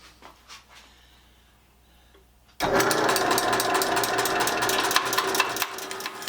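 Foley Belsaw SR1000 retoother cutting new saw teeth: after a quiet stretch of faint clicks, a loud, harsh grinding buzz starts abruptly, with rapid chattering pulses and a pitch that shifts slightly as it keeps going.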